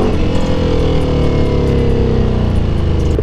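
A 2023 Ducati Panigale V4R sportbike engine drones steadily nearby, its tone sliding gently downward as revs ease, loud and continuous with no voices.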